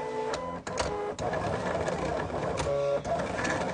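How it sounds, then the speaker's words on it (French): A Silhouette Cameo cutting machine works on a Christmas-tree decoration, giving a steady close mechanical whir and buzz with shifting motor tones and brief dips as the carriage changes direction. "la machine est tranquillement en train de découper"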